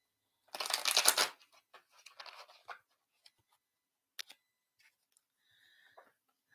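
A deck of tarot cards being shuffled close up, with one loud riffling burst of about a second, then softer card slides and a few isolated taps and clicks in an otherwise quiet room.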